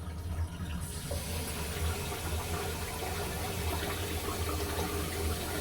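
Tap water runs steadily into a sink to rinse a Fairschenkt GC2.0 safety razor during a wet shave, a continuous close gushing flow with a low hum underneath.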